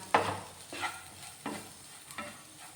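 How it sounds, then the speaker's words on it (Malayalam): Garam masala and ground spices are stirred in a hot pan, making soft scraping strokes about every half second with a light sizzle under them, close and fairly quiet. "അര ടീസ്പൂൺ ഗരം മസാല ഇത്രയും ചേർത്ത് ഈ പൊടികളുടെ എല്ലാം പച്ചമണം ഒന്ന് മാറുന്നിടം വരെ ഒന്ന് വരട്ടിയെടുക്കണം"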